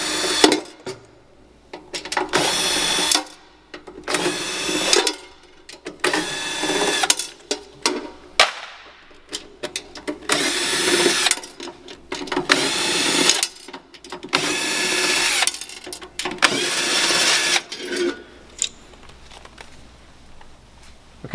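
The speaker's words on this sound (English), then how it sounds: "I'm going to use the drill to make it a little faster for the video" A power drill fitted with a nut driver spins off eight nuts from a heat element in loud, repeated whirring bursts of one to two seconds each, with short quiet gaps and small clicks between them.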